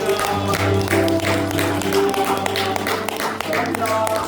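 A church congregation at a Saturday revival service claps in praise, with rhythmic clapping over a steady sustained musical drone and a lively crowd texture throughout.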